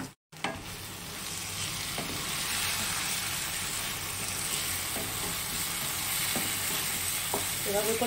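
Jackfruit and prawn curry being sautéed with sugar and garam masala in hot oil, a loud, continuous close sizzle with occasional spatula scrapes against the pan; a voice speaks briefly at the start.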